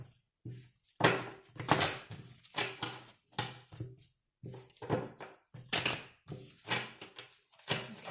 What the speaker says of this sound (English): Let's get some shuffles here for Pisces.